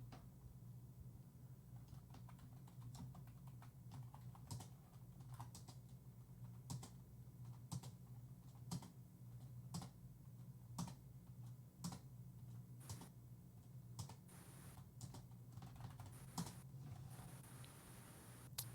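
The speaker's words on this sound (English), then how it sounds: "you might just be able to hear my keyboard clicks there" Computer keyboard clicks during an online race-day stream, sparse taps and short runs of keystrokes, faint and close over a low steady hum.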